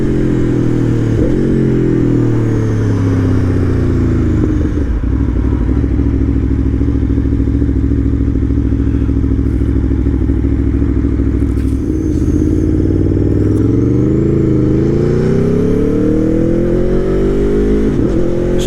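An Aprilia motorcycle engine roars steadily throughout a ride, its pitch climbing and falling through gear changes, loud and close with wind buffeting and no talk.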